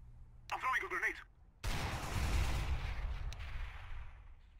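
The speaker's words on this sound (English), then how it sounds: "I'm throwing a grenade." A grenade detonates in a Counter-Strike match, a sharp blast followed by a long decaying boom and rumble, preceded by a brief burst of in-game voice.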